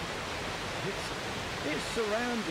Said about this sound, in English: that is one gorgeous waterfall